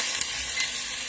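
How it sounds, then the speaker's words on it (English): Onion and garlic sizzle in a Dutch oven over lowered heat, a dense, steady frying hiss with faint stirring scrapes and no speech. "I'm gonna lower this heat because I already see it starting to sizzle"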